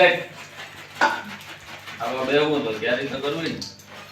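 A spoon scrapes and clinks in a bowl while mixing bhel (puffed rice snack) with chutney, with a sharp knock early on and someone talking over it.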